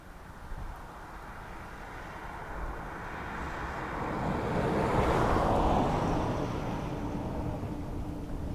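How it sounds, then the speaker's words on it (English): An Airbus A321neo inbound from Paris passes at Dublin Airport, its engine roar and rushing jet noise swelling gradually to a broad peak midway, then easing off, heard from a distance with some wind. "Another 321 Neo now, inbound from Paris."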